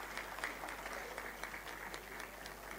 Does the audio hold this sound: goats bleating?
no